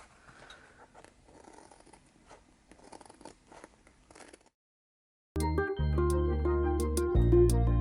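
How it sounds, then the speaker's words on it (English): Scissors trim fabric for a junk journal cover in a quick series of close, crisp snips, followed by silence and then loud music. "So I'm just gonna take my scissors and trim right along."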